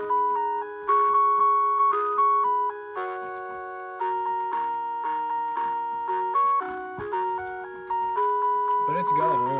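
Mr. Christmas Around the Carousel music box under repair, playing a bright, steady chiming melody of plucked metallic notes at close range, with a brief mechanical rattle near the end.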